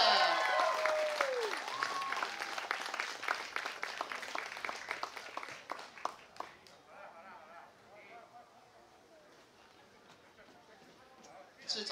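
An audience applauds at a choir concert with loud, dense clapping that gradually thins and fades over several seconds, while a voice speaks over it near the start.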